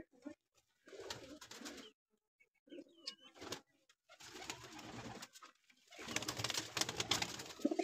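Pigeons coo and flutter in bursts close by, with soft wingbeats and shuffling between rounds of low, throaty calls; the activity grows busier toward the end.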